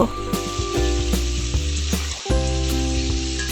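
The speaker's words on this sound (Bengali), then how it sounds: "লবণ দিয়ে মাংসটা ভালোভাবে ভেজে নিব" Beef sizzling steadily in a pan with salt, a loud, close, continuous frying hiss with occasional stirring clatter and a brief dip near the middle.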